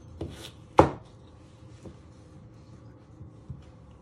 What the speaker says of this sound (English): And then you just want to chop them in half.